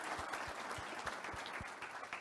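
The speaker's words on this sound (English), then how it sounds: "So a round of applause for all the folks who've helped organize these." Audience applause at a Kubernetes Community Days event, a steady patter of many hands clapping at close range, continuous and fairly even throughout without voices on top.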